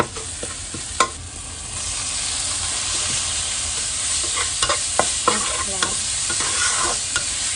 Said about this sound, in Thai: เดี๋ยวไปทำอ๋อสปาเกตตี้ผัดขี้เมาต่อไปนะคะให้พี่แพนผัด ให้พี่สาวผัดบ้างนะจ๊ะ